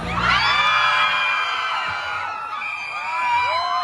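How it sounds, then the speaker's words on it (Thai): A loud crowd at a Tenth Lunar Month festival in Nakhon Si Thammarat shrieks and cheers continuously, high excited voices overlapping in a sustained roar that dips slightly midway before swelling again. "ใครจะกรี๊ดเชิญกรี๊ดให้ดังครับ"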